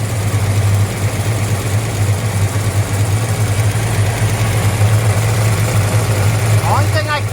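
A 1966 Chevelle convertible engine idles loud and steady with a deep, even rumble and constant vibration, suspected clutch trouble, with no pauses and a faint chirp near the end.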